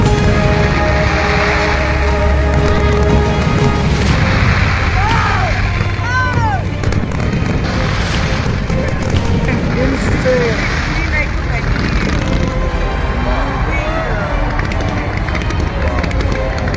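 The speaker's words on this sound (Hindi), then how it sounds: "पटाखों से निकलता शोर" Loud popping firecracker bangs and whistling pops go off repeatedly amid a noisy crowd at Dev Deepawali in Kashi, with a voice speaking over the bursts.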